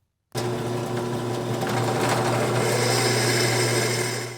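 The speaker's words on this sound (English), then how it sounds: "I'm going to drill the pilot holes, then I'm going to drill the actual holes for the fasteners" A power drill runs continuously at a steady, high whine for several seconds, close and loud, with a slight grinding texture as it bites into a metal CNC Z-axis part.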